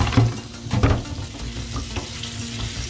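A cast iron pot is scrubbed with a crochet scrubby, giving rough, gritty scraping bursts near the start that settle into a steadier, softer rubbing, close and without talk.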